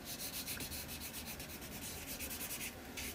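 The perforated, patterned edge of a paper napkin rubbed gently by hand, a steady close swishing rasp of quick repeated strokes with no talking over it.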